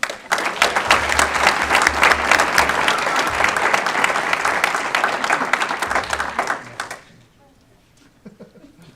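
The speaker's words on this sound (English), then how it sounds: "Please give all of our National Board recipients a round of applause." Warm, sustained applause from a school board meeting audience honoring National Board certified teachers fills the room for about seven seconds, then fades quickly into quiet room noise.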